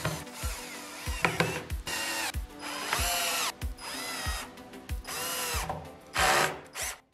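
A power drill drives wood screws into an MDF subwoofer enclosure for dual 8-inch subwoofers, in a series of short whirring bursts with brief pauses between them and a ratcheting clutch sound as screws seat.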